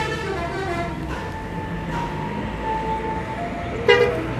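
A bus horn plays a gamelan-style tooting melody of sustained tonal notes over a background of traffic and idling engines at a busy outdoor bus gathering, with a brighter short blast near the end.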